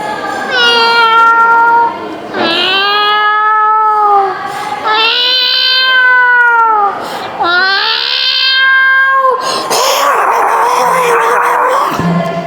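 A voice mimics two cats fighting, with a series of loud yowls and wailing caterwauls, then a harsh spitting hiss at the end, as a mimicry performance.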